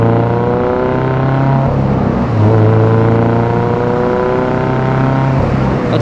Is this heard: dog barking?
no